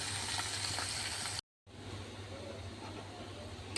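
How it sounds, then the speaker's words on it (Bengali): Shrimp and chopped onion frying in a pan, a steady close sizzle and bubbling hiss that cuts out briefly before carrying on evenly. "চিংড়ি মাছ আর পেঁয়াজ কুচি ভাজতেছে।"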